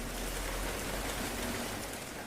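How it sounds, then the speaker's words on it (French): Heavy rain pouring onto village cobblestones, a dense, even hiss of thick, loud drops close by, continuous and unbroken with no voices. "la pluie tombait fort. Des gouttes épaisses, bruyantes,"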